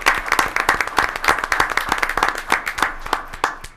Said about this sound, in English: would you like to stand and give you a round of applause?